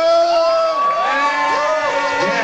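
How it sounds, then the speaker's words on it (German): A crowd at an outdoor tolerance music festival award ceremony cheers and whoops loudly, with voices shouting over one another in a sustained, dense roar. "Macht mal Applaus hier!"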